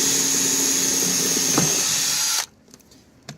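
Power drill boring into aluminum during a diving board surface mount installation, a loud steady high whine for over two seconds that stops abruptly, leaving quiet with a faint knock.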